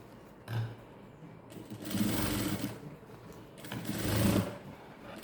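Sewing machine stitching a silk blouse, two quiet runs of steady mechanical whirring with a soft start and stop, separated by pauses.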